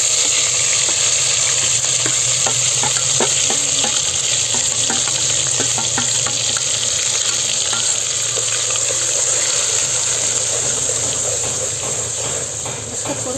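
Masala spices hit hot oil in a pressure cooker for a village-style mutton rassa, giving a loud, continuous close sizzle with light scraping and stirring clicks throughout.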